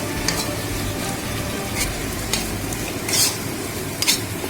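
Potatoes sizzling in hot oil in a pan while being cooked into a fish curry, a steady close frying hiss broken by several sharp scraping strokes of a spoon stirring them.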